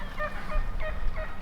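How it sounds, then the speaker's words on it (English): Wild turkeys roosting in trees in the dark in Nebraska give repeated short, fairly distant calls over a low, rumbling background. "We could see the turkeys in the trees."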